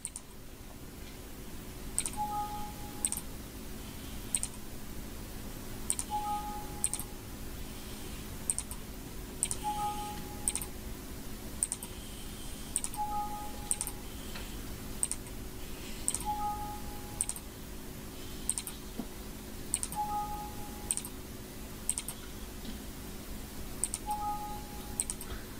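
Computer mouse clicking at a steady, regular pace in tracing software, sharp close clicks repeating every second or so over a faint background hum, no speech.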